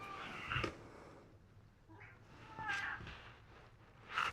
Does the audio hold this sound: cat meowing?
yes